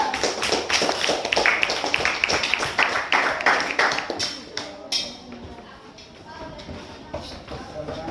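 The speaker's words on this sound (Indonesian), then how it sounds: "Tepuk tangan untuk kelompok 3" Applause for a student group in a physics education class: a burst of scattered clapping from a room of people, busy and uneven, fading after a few seconds into quieter shuffling and faint talk.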